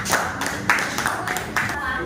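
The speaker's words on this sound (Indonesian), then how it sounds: "Ya, tepuk tangan buat Cika." A small group of schoolchildren clap in a combined-grade primary classroom for a classmate, a short burst of uneven, close handclaps with a few sharper accents, about two seconds long.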